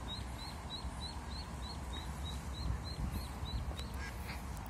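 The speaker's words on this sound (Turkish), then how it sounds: "Bak şu ördek ailesini kaybetmiş." A duck separated from its family calls at a lake in Floridsdorf, Vienna: a quick, evenly spaced run of about a dozen high, thin quacks over steady outdoor background noise.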